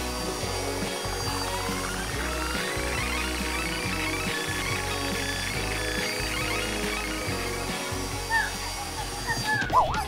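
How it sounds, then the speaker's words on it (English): Blow dryer running on hot while drying wet plush toys, a continuous whirring hum with fluctuating tone throughout and a voice speaking over it briefly near the end. "The blow dryer is quite hot."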